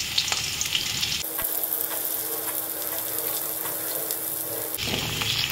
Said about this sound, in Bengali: তেলটা গরম হয়ে গেছে, একটু কালো জিরে ফোড়ন দিয়ে দিলাম। এখন কুমড়োগুলো দিয়ে দিলাম।